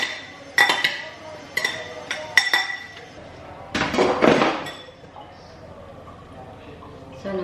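Salad with Caesar dressing being mixed in a bowl, with several bursts of clinking utensils against the dish separated by quieter pauses and a voice speaking in between.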